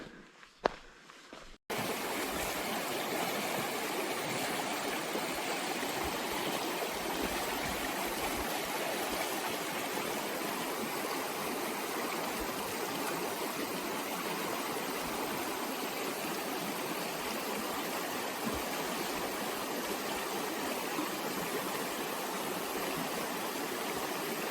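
A river rushes steadily a few meters from a river crossing in wet, hail-and-rain weather, a loud continuous broadband wash of flowing water that starts abruptly and holds unbroken throughout.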